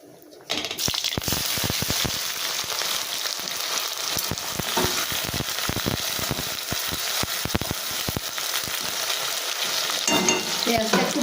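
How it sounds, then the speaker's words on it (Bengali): Chopped onions hit a pan of hot oil with fried cumin, bursting into a loud, continuous close sizzle after a brief quiet start, with scraping stirs and birds cooing faintly in the background. "জিরেটা খুব ভালোভাবে ভাজা হয়ে গেছে এবার আমি পেঁয়াজ কুচিগুলো দিয়ে দেবো"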